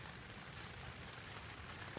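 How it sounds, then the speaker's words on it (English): Steady, fine patter of light rain drumming on the fabric of a Big Agnes Copper Spur UL2 tent, constant and close with no voices. "As you can tell, it's still raining, but it's lightened up a lot."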